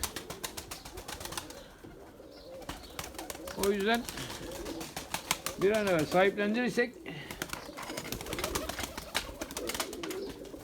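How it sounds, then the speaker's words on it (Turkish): Domestic pigeons, about twenty-one birds in a small coop, give soft cooing calls close by while someone talks over them, with some clicking and shuffling in the background. "21 tane kuş var bu küçük kümeste şu anda bu kümeste."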